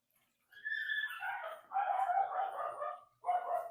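A small miniature Labradoodle barks next door in a few faint, distant yelps, roughly three short bursts with quiet pauses between them.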